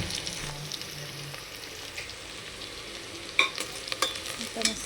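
Cumin and mustard seeds sizzle in hot oil, a steady frying hiss with a few sharp pops and crackles toward the end.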